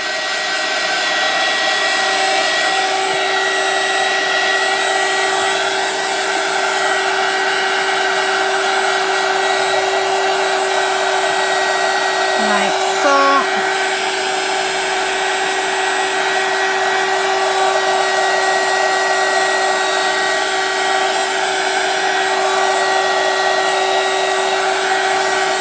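Heat tool drying the back of an embossed papercraft card, a steady loud whirring blower hum running unbroken throughout, with a faint brief clatter midway.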